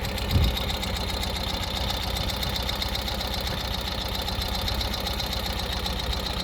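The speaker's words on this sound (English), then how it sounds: "You will want to let it warm up for a couple seconds." A 2024 Ural Gear Up two-wheel-drive sidecar motorcycle engine idles while warming up, a steady low, even chugging with a regular pulse, close and continuous, with one brief bump near the start and no talking.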